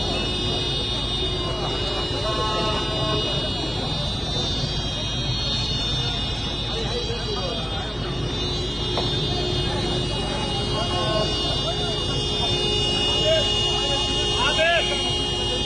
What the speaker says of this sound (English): Since the cars are still fucking honking.